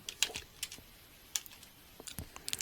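Light, sparse typing on a computer keyboard, scattered soft clicks with short pauses, quiet and close.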